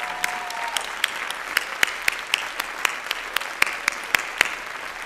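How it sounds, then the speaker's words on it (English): Scattered claps ring out from an audience at a Planned Parenthood fundraising event, sharp distinct hand claps rather than a dense roar, steady over a quiet room. "so let's give her a round of applause"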